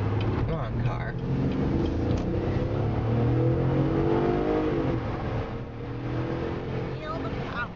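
The rough engine of a 2012 Chevrolet Impala LTZ 3.6 drones and strains steadily as it accelerates to 60, loud and close, with a voice talking over it.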